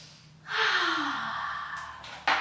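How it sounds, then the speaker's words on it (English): A single deep breath drawn in during a calming exercise, a long airy inhale lasting about two seconds, close and clear, ending with a short sharp puff. "I cross my arms and breathe in deep."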